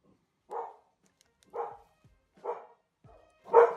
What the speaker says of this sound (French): On a aussi un chien.